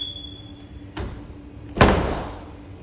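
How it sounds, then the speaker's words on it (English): Interior door of a Champion 3276 mobile home being shut: a light knock followed by a heavier, resonant slam that lingers briefly in a quiet room. "Go ahead and shut the door."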